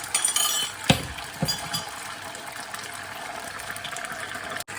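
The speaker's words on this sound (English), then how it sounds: "Couple of eggs beaten into the pan." Eggs are stirred and broken up in a pan, giving quick scraping and clinking of a utensil against metal with a couple of sharper knocks, then a quieter, softer sizzle-like hiss, close by, no talking.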